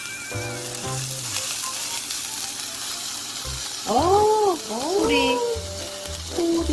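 A shrimp and wild chive pancake fries in a pan with a loud, steady sizzle. Voices talk over it, and a few brief tonal sounds rise above the frying.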